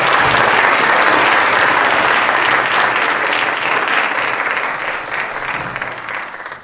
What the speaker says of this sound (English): And round of applause for our panelists,